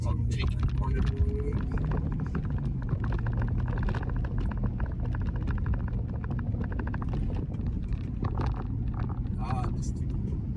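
A 2004 Acura TSX with a six-speed manual accelerating hard through a corner, its steady engine drone and road noise heard from inside the cabin, with a person talking over it throughout.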